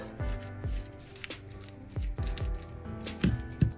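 Soft squishing and scraping as chopped vegetables are mixed with salt for grilling or air frying, in a few repeated strokes close by, with a light clink near the end.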